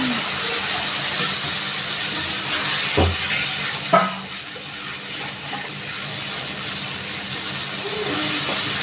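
Water splashed into cumin and coriander powder frying in oil for a Bengali pointed gourd dish, giving a steady loud sizzle with brief hissing bursts and a clatter near the end, no voices.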